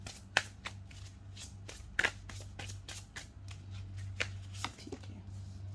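Tarot cards are shuffled by hand in a quiet room, giving a soft run of rapid papery riffles and taps with a few sharper snaps, close and faint over a low background hum.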